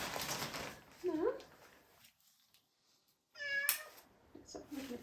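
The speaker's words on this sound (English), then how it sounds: "My cat also wanna come with me," A house cat meows a couple of times, close and fairly loud, with a person talking around the calls and a quiet gap between them.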